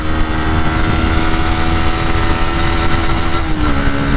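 A Yamaha YZF R125, a 125 cc sport motorcycle, revs hard while riding, its engine a loud, sustained, steady drone close to the microphone, rising in pitch near the end with no speech.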